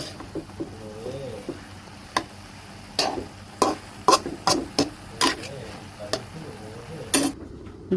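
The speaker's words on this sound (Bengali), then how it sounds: "এখন এটাকে ভালোভাবে নাড়াচাড়া করে দেব" Fresh water lily stems frying in a pan being stirred, with repeated sharp scrapes and clicks of the spoon over a low sizzle, close and fairly even in rhythm.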